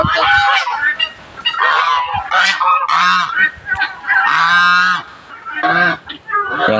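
Geese honk loudly and repeatedly up close during breeding season egg collecting, a busy overlapping chorus of harsh nasal calls with only brief gaps.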